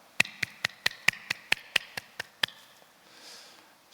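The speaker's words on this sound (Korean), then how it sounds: "큰 박수를 올려주시면" Audience at a church gathering claps in steady unison, about ten crisp, evenly spaced claps that stop abruptly and leave near silence.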